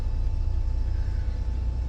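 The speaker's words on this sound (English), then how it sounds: "feeling and hearing the truck rumble" Truck engine heard from inside the cab, a steady, low droning rumble at modest volume, unbroken and with no talking.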